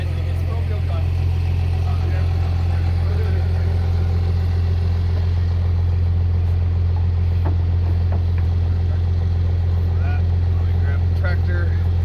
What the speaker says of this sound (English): Of course, we got the clapped out tractor in the darkness.